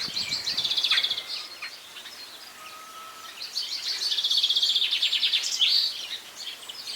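Summer birds sing outdoors in evening light among magnolia branches, with bright chirping phrases in two bursts and a quieter pause between, moderately near against a faint background.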